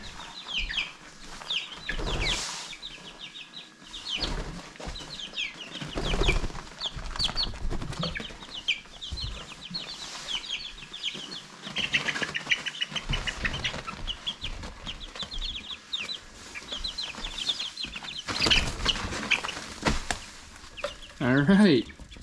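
Bantam chickens cluck and chirp close by inside a large brooder, a busy, continuous chatter of many hens with scattered louder calls and some rustling throughout.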